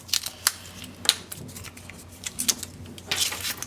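Scissors make a run of crisp, close snips as they cut out a traced paper template for a mini album page, with short pauses between the cuts.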